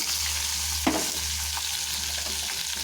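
Onion, tomato, dried chili, curry leaves and coriander sautéing in hot oil, a steady bright sizzle throughout with one sharp stir or clatter near the start and faint scraping after.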